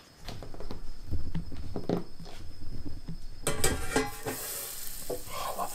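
Butter sizzling in a stainless steel frying pan over low heat, a crackling, spattering fry with scattered clicks and stirring noises, close and continuous, no talk.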